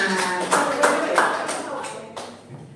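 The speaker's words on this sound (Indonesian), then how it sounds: "Tepuk tangan dulu dong buat Ibu Yuni dari semangat." A small group of teachers at a training session claps for Ibu Yuni, a handful of distinct, fairly close hand claps in a loose rhythm that fade out over a couple of seconds.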